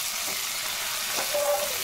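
Chopped tomato hitting hot oil with onion, ginger and garlic after tempering, a loud continuous sizzle with a brief burst of spitting near the middle, no talk.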